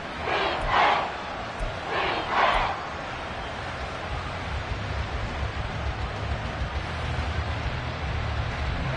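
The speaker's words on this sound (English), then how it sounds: "This crowd turning up the decibel level." Football stadium crowd cheering loudly, a dense roar that swells twice early on, then settles into a steady, loud wash of noise.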